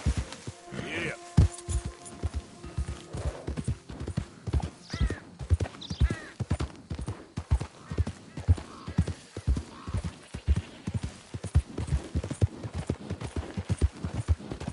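Horse galloping in Red Dead Redemption 2, with a fast, steady run of hoofbeats clip-clopping close and clear throughout, a brief whinny near the start, and a voice calling out now and then.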